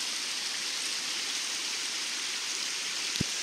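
A forest stream flows in a steady, even hiss of moving water, close and continuous, with a single brief knock near the end.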